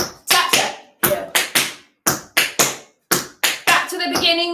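Tap shoes striking a hard floor in a tap class, in four crisp groups of two or three sharp taps each with quick decays, ending in a denser flurry of taps blended with a brief voiced sound.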